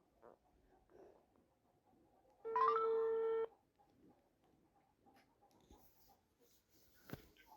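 A phone on loudspeaker places a call, giving a single steady electronic ringback tone of about one second, clear against a quiet room with faint background shuffling.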